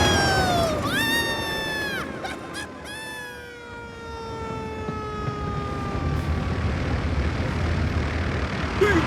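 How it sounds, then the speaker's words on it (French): A spinning propeller drives a cartoon flying machine in a French-dubbed Thomas & Friends episode, giving off a loud, whistling mechanical whine whose tones glide up and down over a steady rushing drone. "Arrête l'hélice, tu entends?"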